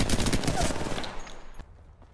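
Gunfire in a video game, a rapid burst of close, loud shots that stops abruptly and leaves a short fading tail, with no talking.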